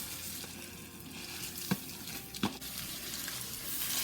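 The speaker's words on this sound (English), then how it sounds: "we're going to brown and toast the rice" Long grain white rice toasting in oil in a pan with onion and garlic, a steady soft sizzle throughout with two brief scraping stirs partway through.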